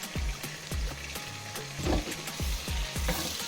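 Onions and ground fresh pepper sizzle and fry in a pot for okra soup, a steady loud crackle with repeated scraping stirs of a spoon throughout, no voices.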